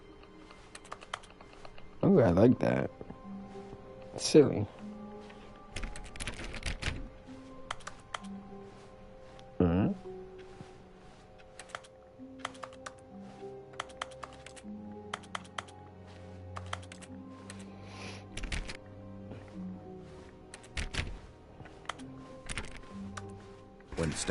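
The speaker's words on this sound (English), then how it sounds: "I find it interesting that pressing buttons makes keyboard sounds." Keyboard key-press clicks from pressing buttons in The Stanley Parable, scattered single taps and short bursts of clicking over quiet background music, with a brief spoken remark.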